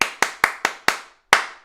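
Close, crisp hand claps in a sing-along: five quick even claps, a brief gap, then one more, with no talking.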